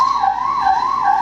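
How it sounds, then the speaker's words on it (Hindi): A police siren wails steadily in the background, its pitch sweeping up and down in a continuous rising and falling tone, loud and unbroken for the whole stretch with no talk over it. "You can hear the siren at the back. डरिएगा नहीं, पुलिस का सायरन है।"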